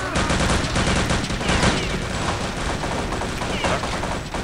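Sustained rapid gunfire from a Return to Castle Wolfenstein shooter game, dense and loud throughout with bursts blending into a continuous fusillade.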